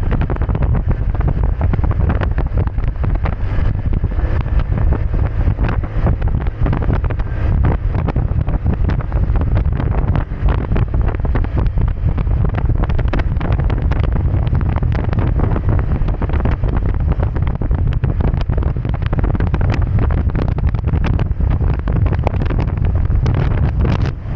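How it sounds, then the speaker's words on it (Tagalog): Strong wind buffets the microphone during a solo long motorcycle ride through Southern Leyte, a loud, constant low roar with gusty rumbling and no talk. "Lakas ng hangin mga kasipag."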